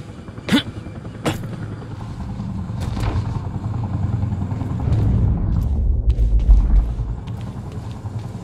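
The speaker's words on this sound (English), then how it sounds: "Better get inside before the chopper spots me." A helicopter in Quantum Break gives off a steady low rumble that builds and grows louder toward the end, with a few sharp clicks and clatters over it.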